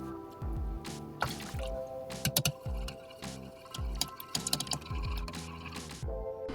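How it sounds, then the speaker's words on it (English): Milk and eggs being mixed together in a bowl, heard as repeated soft clinks and wet sloshing in a steady stirring rhythm, close up and fairly quiet, with no talking. "next is to mix together the milk and the eggs"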